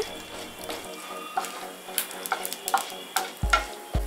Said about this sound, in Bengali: লঙ্কাগুলো একটু কালো রং এসে গেলে ছোলার ডাল ও চালটা দিলাম। 30 সেকেন্ড মতো ফ্রাই করব।